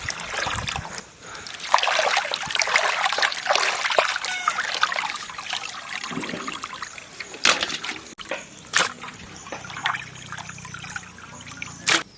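Water trickles and splashes as raw mangoes are washed by hand, a close, uneven stream broken by sharper spatters and clunks.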